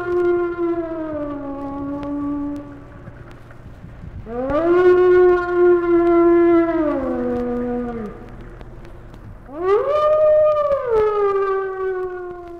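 Wild wolves howl in long, rising and falling tonal wails, three drawn-out howls separated by short gaps, clear and fairly loud with no talking.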